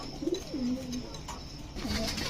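Domestic pigeons, including a Chuina and Giribaz pairing, coo in low, rolling phrases, two close calls separated by a short pause with faint background noise.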